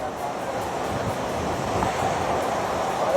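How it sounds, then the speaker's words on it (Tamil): Strong cyclone winds with heavy rain as Cyclone Fengal crosses the coast at Marakkanam, a steady loud roar of wind and rain noise buffeting throughout, with no clear speech. "இந்த பென்சான் புயல் தற்போது கரையை கடக்கக்கூடிய சூழலில் அது தற்போது இந்த அதிக காற்றுடன் சூறை காற்றுடன் தற்போது கனமழையானது பெய்து வருகிறது"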